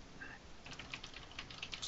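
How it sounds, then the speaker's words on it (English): Faint keystrokes on a computer keyboard, a loose run of light clicks that pick up in density during the second half, quiet against a low background hum. "Can you guys pick up my keyboard when I type?"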